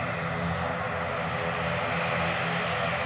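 A steady, loud aircraft engine roar at Glasgow airport, a continuous broadband drone with no breaks or voices.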